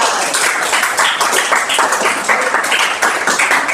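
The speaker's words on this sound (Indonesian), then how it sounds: "tepuk tangan lagi." A class of students applauding, quick scattered hand claps rising and falling in a steady crowd clatter, close and fairly loud, with no talk.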